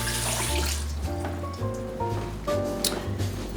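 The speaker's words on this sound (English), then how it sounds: "we're gonna take some yams, make sure they're washed off nicely" Tap water gushes into a sink as yams are washed under it, a loud, close, continuous rush whose pitch shifts as the stream hits the vegetables and basin.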